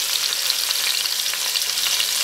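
Fish, a dorade, frying in a pan of oil gives a dense, even hiss that holds steady and close throughout, with no voices.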